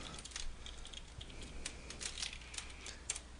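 Keystrokes on a computer keyboard typing a short command, a quick uneven series of light clicks, close and fairly quiet, with no voices.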